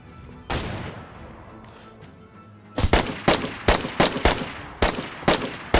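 Gunfire in a survival shooter game: one sharp shot, then after a pause a rapid run of about a dozen loud, close cracks in an uneven rhythm.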